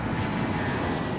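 A Boeing 757 in flight, its jet engines giving off a steady, loud broadband roar heard from inside the cabin.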